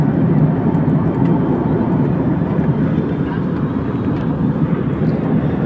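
Airplane cabin noise during descent and landing, a loud, steady low roar of engines and airflow filling the whole clip without letup.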